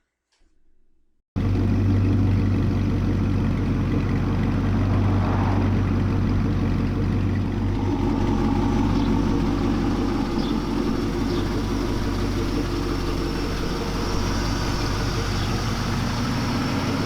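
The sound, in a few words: 1960 Chevrolet C10 pickup with LS1 engine running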